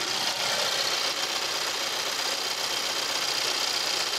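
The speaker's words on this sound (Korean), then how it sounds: "엔진 소리 한번 들어볼게요." A 2016 Renault Samsung SM6 idles with the hood open, its engine giving a steady, quiet, even hum heard close up, with no talk over it.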